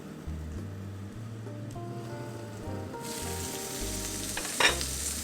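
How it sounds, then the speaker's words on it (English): Leftover Chinese roast pork stir fry simmering under a lid in a pan, a steady close sizzle and bubbling with low rumbling and a brief louder spatter near the end, no voices. "cover it with a lid to let it simmer for 1 minute"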